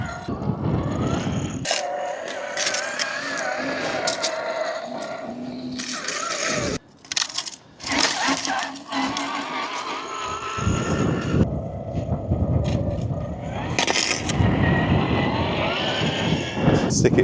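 A $2000 toy tractor grinds through dirt and mud, its electric motor whirring steadily in the foreground with short pauses and surges as it pushes soil, while people talk and cheer over it.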